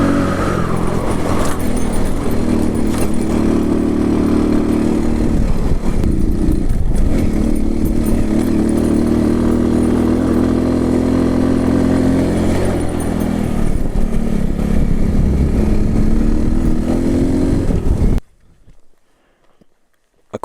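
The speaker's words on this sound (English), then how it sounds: "If you're curious about the scooter that I'm riding right now, it's a Chinese brand that's very common where I live" A Chinese-brand 125cc scooter engine labors uphill in third gear, a loud, steady droning buzz with slight pitch rises and dips and wind rush, heard up close for about eighteen seconds before cutting off abruptly.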